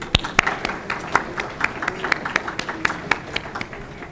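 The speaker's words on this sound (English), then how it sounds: "I would like to give a round of applause to the staff here at the Victoria Inn for their hard work" A conference audience at the Victoria Inn gives hotel staff a round of applause: scattered, distinct claps from a modest crowd, fairly close, with some murmur beneath.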